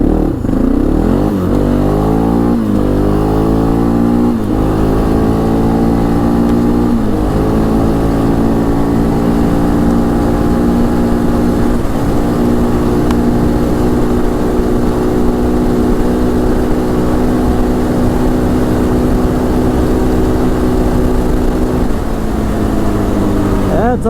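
A 2006 Bombardier DS650X ATV engine revs hard through the gears up to top speed in fifth, the loud steady drone climbing and shifting several times before holding high near the rev limiter, then dropping off at the end.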